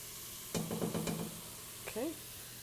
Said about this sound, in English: looks like we can go ahead and stir in the tomato paste